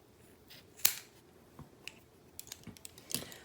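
Scissors snip cotton wick for a mesh vape coil on an RDA, producing two faint, crisp clicks with a few softer ticks and rustles between them in a quiet room.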